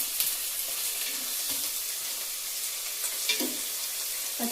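Soft sizzle and crackle of onions frying with tomato puree in a pan for pav bhaji, steady low-level frying with a few brief stirring clinks.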